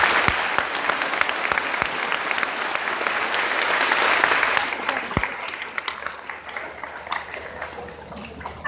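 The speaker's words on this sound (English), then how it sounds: "Let's give them one more round of applause." Sustained applause from a school assembly audience honoring veterans at a Veterans Day event, a dense clapping wash that swells, then gradually thins into scattered claps.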